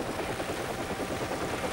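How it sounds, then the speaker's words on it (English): Helicopter rotor and engine drone steadily close by, a dense continuous thrum with no break and no talk over it. "Marcus, you never told us you knew how to fly a helicopter."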